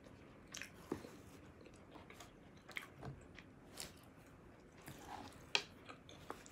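Quiet chewing and biting of northern Thai larb, soft crunchy and moist mouth sounds recurring irregularly, close and alone with no talk.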